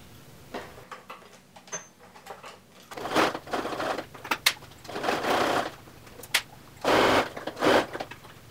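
A sewing machine back-stitches a clear vinyl tote in repeated short whirring bursts separated by pauses, with mechanical clicks and rattles between runs, heard close up.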